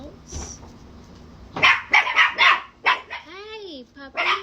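Several puppies bark in short yipping bursts at close range, with a rising whimper in between, and a person talks over them.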